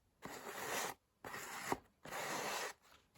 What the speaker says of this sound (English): I'll just use a sanding block. And that gets the edges off.